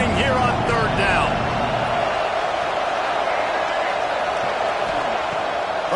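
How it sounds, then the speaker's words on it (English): A loud, dense roar from a Boise State football stadium crowd on third down: a steady wall of noise across the whole stretch, with a play-by-play voice over it early on. "This Boise State crowd bringing the noise. It's deafening here on third down."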